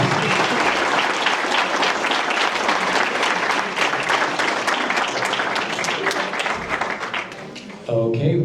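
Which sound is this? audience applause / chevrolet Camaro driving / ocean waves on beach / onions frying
audience applause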